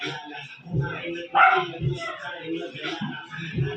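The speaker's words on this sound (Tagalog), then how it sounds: "Aso pala yan ha." A dog barks and yips a few times close by, with people talking over and between the barks while sisig is cooked.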